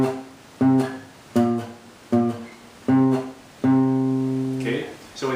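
Bass strings of an acoustic guitar picked in a blues pattern from a song, five clear plucked notes or chords in an even rhythm, each ringing and fading, the last held longer.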